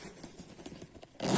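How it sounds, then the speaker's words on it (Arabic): A clothing zipper is pulled up in a quiet room, giving a soft, fine ratcheting run that ends in a louder scrape and rustle as it finishes. "اول سوستة خلصت"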